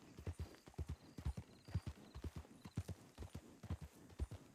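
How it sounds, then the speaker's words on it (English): Horse hooves clip-clopping in a steady walking rhythm, close and fairly quiet, with even paired beats throughout and no talking. "And you have clip clop, clip clop,"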